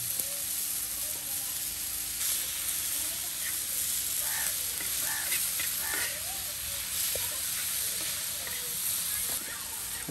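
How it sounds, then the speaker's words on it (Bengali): Ingredients for a bharta mash frying in a pan, a continuous close sizzle with scraping stirring strokes throughout, a voice faintly heard in the background. "আর এভাবেই কিন্তু একদম সব কিছু ভেজে নিয়ে ভর্তা করা হচ্ছে"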